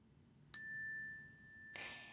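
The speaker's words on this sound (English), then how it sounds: "I'm just going to gently play the bell once." A single meditation bell strikes once, ringing with a clear sustained tone that slowly fades, faint and alone in a quiet space, followed by a soft brushing sound near the end.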